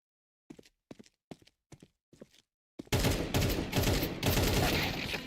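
Video game firefight in a competitive league match: several short separated shots, then a dense continuous burst of loud automatic gunfire filling the second half.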